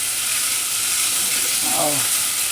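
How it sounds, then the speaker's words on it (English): Potatoes for beef and potato sambusas sizzle and fry steadily in a pan, with a brief scraping stir partway through the continuous hiss. "I'm scrambling up my potatoes"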